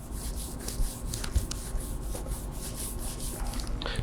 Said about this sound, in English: So that small little raspy noise that you hear, that's the embedded contamination that's on your paint.